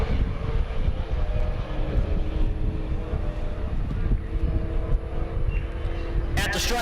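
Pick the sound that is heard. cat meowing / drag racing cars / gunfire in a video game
drag racing cars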